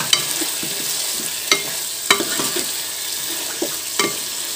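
Chicken kosha with fried potatoes sautéing in a pan: a continuous bright sizzle with scraping stirs, broken by a few louder knocks of the spoon against the pan.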